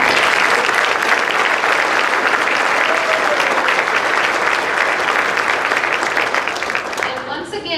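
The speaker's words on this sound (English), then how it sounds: "would like to also give you a round of applause" Loud, dense applause from an audience at an evening awards event honoring faculty and staff, many hands clapping continuously and close, then tapering off at the end.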